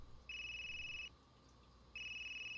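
A phone rings after the number is dialled: two steady, high electronic ringback beeps separated by a short pause, clear against a quiet background.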